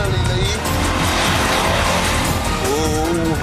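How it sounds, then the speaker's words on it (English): A petrol car's engine roars hard at full throttle as it pulls away at the start of a race, a loud, close and continuous rasp with tyre noise mixed in. "the petrol car has roared off to an early lead"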